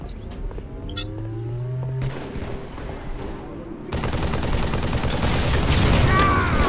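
Assault rifle fire in a video game: some scattered shots and tones at first, then from midway a dense, loud, continuous stretch of rapid automatic fire, with brief speech early on.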